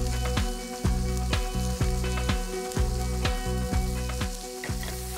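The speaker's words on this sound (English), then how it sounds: "So in with the mushrooms, and we'll wait for them just to break down a little." Pine mushrooms frying in a hot pan, a loud continuous sizzle with regular rhythmic thumps and crackles roughly once a second, close up and with no talking.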